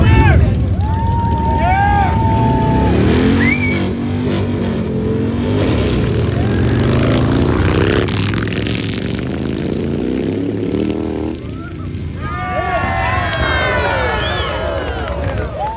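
Motorcycle engines, including a hardtail Sportster chopper, roar and rev past at close range during dirt drag racing while a crowd cheers and people talk loudly nearby throughout.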